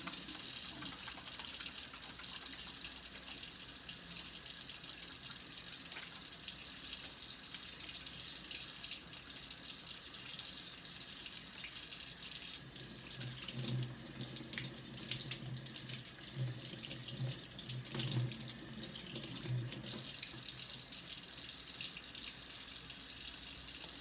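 Tap water runs steadily into a sink for a long stretch while hands that have egg on them are washed under the stream, with a fuller splashing patch partway through. No one talks.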